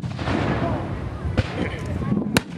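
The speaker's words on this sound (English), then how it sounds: "And that was a 3-inch mortar." A 3-inch mortar fires at an outdoor military muster, a sharp blast cutting through steady crowd murmur and wind, with a second loud crack near the end.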